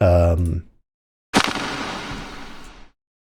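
A gunshot sound effect built from swooshes: a sharp broadband burst hits, then a rushing, swooshing noise tail sustains for about a second and a half before cutting off; a brief tonal sound precedes it.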